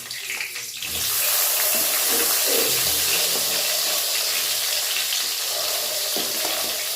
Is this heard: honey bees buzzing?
no